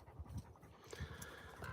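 Dog panting after days of running, rapid rhythmic huffing breaths close by, fairly quiet, with some faint background clatter toward the end.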